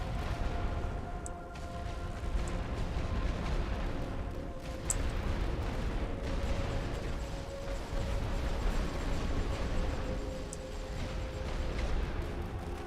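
A creeping artillery barrage rumbles in The Great War: Western Front, a World War I strategy game. It brings low, continuous booms and distant detonations that stay fairly faint and steady throughout.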